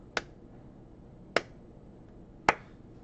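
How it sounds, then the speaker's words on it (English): Three sharp, isolated hand claps spaced about a second apart, close and clean over a quiet background, in a slow deliberate rhythm. "Slow clap."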